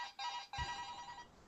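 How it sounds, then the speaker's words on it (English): A mobile phone rings with a repeating electronic ringtone in two short bursts and then a longer stretch, loud and close, with no talking over it. "your phone's ringing"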